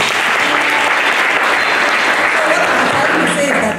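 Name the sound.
applause in church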